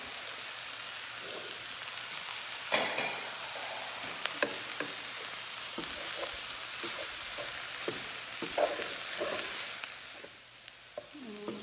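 Banana pepper and chili flakes sizzling in a hot pan for fried rice, a bright crackling hiss like rain running throughout, with occasional clicks and scrapes of a utensil stirring, close and unaccompanied by talk.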